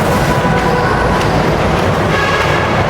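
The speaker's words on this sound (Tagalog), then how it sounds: "Dito na po tayo sa MRT station." A steady, loud rumble of a train at an MRT station in Manila, with continuous mechanical noise and rail sounds filling the whole time, no talking.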